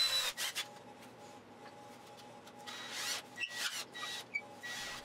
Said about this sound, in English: I could chuck it into my drill and sand it down just a bit until it was a perfect fit